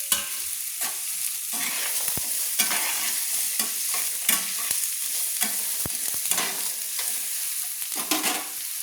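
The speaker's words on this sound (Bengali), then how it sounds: "আলুটা আমি ভেজে নেব।" Cut and washed potatoes sizzle and crackle in hot oil for a chirer polao, a steady close frying hiss broken by scraping stirs and small clicks from the pan, with no talk.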